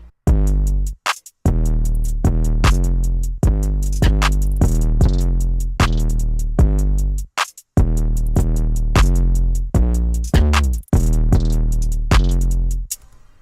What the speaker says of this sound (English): So all together, the drums will sound like this.